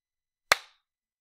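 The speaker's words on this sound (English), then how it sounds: "so I clapped once" A single sharp hand clap rings out, one crisp close slap with a brief decaying ring, surrounded by silence.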